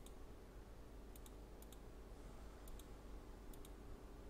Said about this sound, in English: lots of clicking you can hear